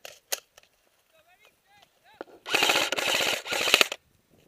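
Airsoft guns fire in rapid bursts during an outdoor skirmish: a single early shot, then two long close automatic volleys of sharp clicking pops, with faint calls and squeaks between.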